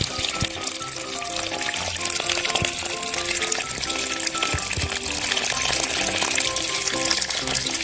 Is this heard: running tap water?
yes